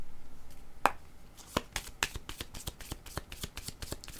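Tarot cards being shuffled and drawn by hand, a run of crisp riffling snaps and slaps at a quick uneven rhythm, close and fairly quiet, with no talking.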